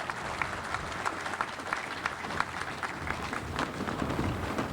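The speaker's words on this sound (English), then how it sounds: "I'd like to give him a round of applause if I could." Applause from an audience at a Vietnam Veterans Day gathering honoring a World War II POW, a steady, dense wash of clapping hands that holds at an even level for the whole span.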